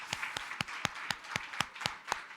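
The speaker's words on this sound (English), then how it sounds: "Big round of applause to you guys." Sharp, evenly spaced claps ring out in a quick steady rhythm, about ten distinct hits over a couple of seconds, close and clear against a soft room background.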